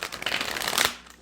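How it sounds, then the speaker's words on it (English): Tarot cards are shuffled up close in one quick riffle of dense, papery flutter that rises briefly and then fades. "Okay, last shuffle."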